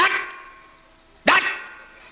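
During a comic katha storytelling performance, a voice imitates an animal growl in two short, harsh bursts about a second apart, loud and close, each fading quickly.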